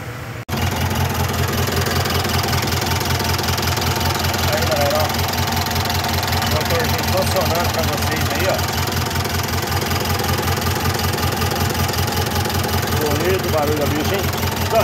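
A MWM 229 diesel truck engine, rebuilt, idles loudly and steadily close by, with a rhythmic low knocking chug that continues unbroken after a brief start.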